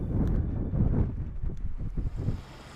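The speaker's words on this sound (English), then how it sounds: "the only thing you hear is the wind, and it's beautiful" Wind gusts buffet the microphone in an open, deserted outdoor spot at Graveyard Point, a loud rumbling rush that swells and eases in waves with no other sounds.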